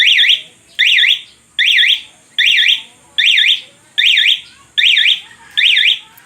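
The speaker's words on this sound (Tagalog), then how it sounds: "Cyclone C11 talking alarm dual ignition setup. Arm. Bike locator." A loud electronic siren chirps from a Cyclone C11 motorcycle alarm's bike locator in eight evenly spaced, rising-and-falling bursts, each about half a second long, repeating steadily with short gaps in between.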